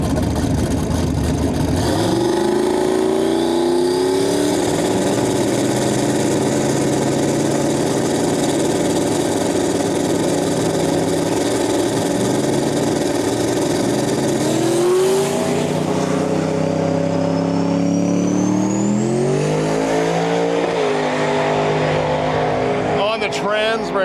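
A drag racing car with an 88 mm turbo engine and Powerglide transmission idles loudly nearby, its engine note rising and falling in revs and surging around midway, with a whine of turbo spool; people talk over it.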